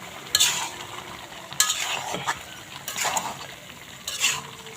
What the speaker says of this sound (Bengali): টমেটো দিয়েছে, টমেটো দিয়ে নাড়াচাড়া।